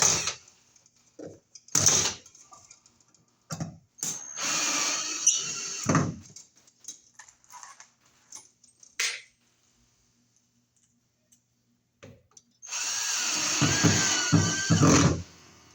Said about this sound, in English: And we'll screw it onto the wall here. Get it straight. Put our screw in.